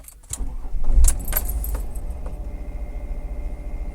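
A car engine is started with the key during an alternator check through the cigarette-lighter socket. Keys jangle, a short loud cranking burst follows, then the engine settles into a steady close idle.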